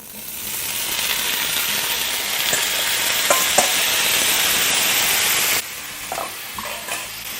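Fajita vegetables sizzling in hot olive oil in a pan, a loud, continuous frying hiss broken by scraping stirs and a few clinks, then a sudden drop to a quieter sizzle.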